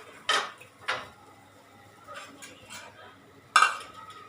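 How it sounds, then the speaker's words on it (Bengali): Freshly cooked food, just taken off a gas stove, scraped out of a pan onto a plate: a few sharp metallic clinks and scrapes of a utensil, close and separated by quiet pauses. "প্লেটেই ঢেলে দিলাম"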